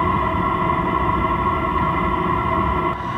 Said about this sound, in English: Right here behind me, you can hear the diesel heater chugging away on the outside.